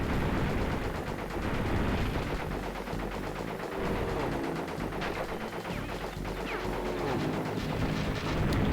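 Continuous aircraft machine-gun fire shooting down blimps in Crash Bandicoot 3: Warped, a loud, steady rattle of rapid shots running without pause, with explosive crashes mixed in.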